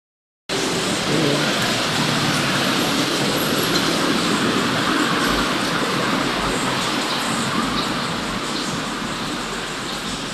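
A light rail train rumbles past steadily and loudly, with a constant roar of wheels on track and faint squealing, with no voices.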